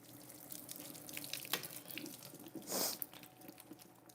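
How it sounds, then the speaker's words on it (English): Water drains from boiled potatoes in a kitchen strainer, a faint, trickling splash with scattered drips and one brief louder gush, no voices. "You don't want excess water in your mashed potatoes, so let it strain."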